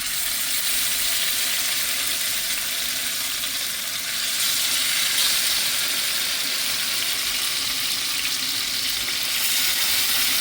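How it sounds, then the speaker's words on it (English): Loud, continuous sizzling of salmon searing in a hot pan, a steady hissing crackle throughout with no talking. "we're gonna sear our salmon for about 5 minutes"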